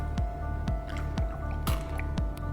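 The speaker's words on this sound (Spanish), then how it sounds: "Con agua lo fijamos a las paredes del embudo." Water dripping and squishing as wet filter paper is pressed onto the walls of a lab funnel, with a steady series of distinct drips repeating about twice a second, close and clear.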